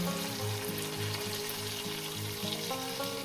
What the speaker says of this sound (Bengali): টমেটো কিছুটাকে দিয়ে আমি নিলাম এক থেকে দেড় মিনিট এটাকে ভেজে নেব